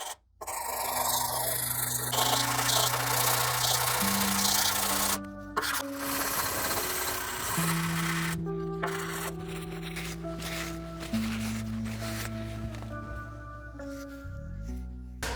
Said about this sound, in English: start cleaning them up with a combination of the sandpaper